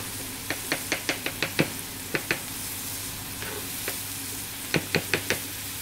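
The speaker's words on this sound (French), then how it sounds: "une fois que les lardons sont presque cuits, on va commencer à introduire les girolles" Chanterelle mushrooms and bacon lardons cooking in a pan, a steady low sizzle under a series of sharp utensil knocks and scrapes against the pan, coming in quick clusters and then pausing.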